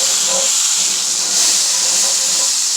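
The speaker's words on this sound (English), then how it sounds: "Super hot skillet. Super hot. I've got quite a bit of butter in here." About half a cup of butter sizzles in a very hot skillet before top sirloin steak cut from a roast goes in, a loud, steady, close hiss that fills the clip with no break and no talk.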